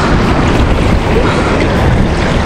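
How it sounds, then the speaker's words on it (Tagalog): Loud, rough rush of wind and churning water buffets the microphone without pause, like strong waves and a strong current pounding around a small fishing boat at sea. "Malakas yung alon. Malakas yung agos po."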